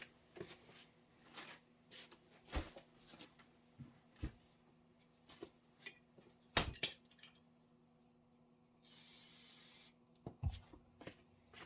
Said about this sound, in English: So I'm just going to go ahead and spray that.